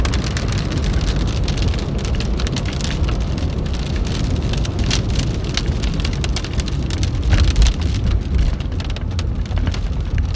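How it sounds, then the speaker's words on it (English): Heavy rain with bursts of hail pounding a vehicle during a storm chase in western Oklahoma, a loud dense drumming with sharp clattering impacts, steady and close with no talk. "We got a little bit of hail there for a second."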